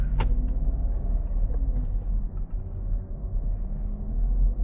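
A 2026 Renault Clio with a 115 HP engine and six-speed gearbox pulls away at night, a low engine rumble and road drone heard from inside the cabin, steady and fairly loud with a brief click near the start.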